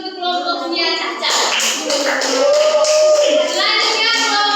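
Fourth-grade schoolchildren applaud in an elementary school classroom, a short burst of many hands clapping that stands out over a teacher's voice and children's chatter.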